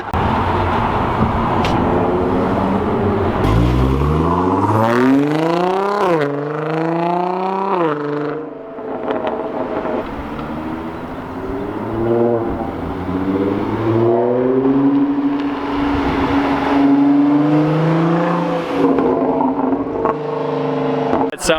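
A 1974 Buick Special with a crackle tune revs repeatedly: the engine pitch sweeps up and down in loud, sustained surges, with voices talking over the continuous motor noise.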